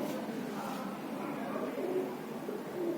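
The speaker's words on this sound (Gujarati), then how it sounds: "અહીંયા જો મસ્ત કબૂતર બે બાંધે છે" Soft pigeon cooing, low and murmuring, repeats a few times against steady background noise; no voices.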